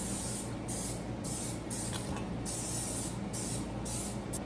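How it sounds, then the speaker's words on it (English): Coconut oil cooking spray misted into two cake pans in a home kitchen, a series of loud hissing bursts in steady rhythm, close up with no talking. "I'm gonna spray it with this spray coconut oil"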